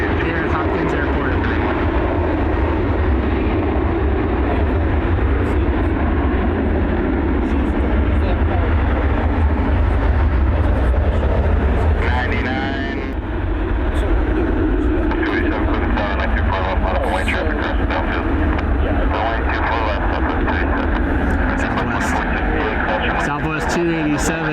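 An airliner taxiing at Cleveland Hopkins Airport, a steady loud jet engine roar that holds constant with a brief dip midway, while someone talks over it throughout.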